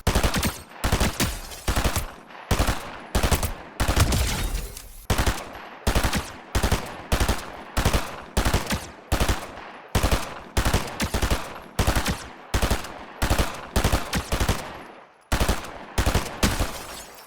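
An automatic weapon in a loot-based shooter video game fires in rapid, evenly spaced bursts, loud and close, with brief pauses between volleys and a short break midway.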